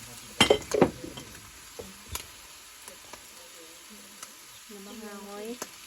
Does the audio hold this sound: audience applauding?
no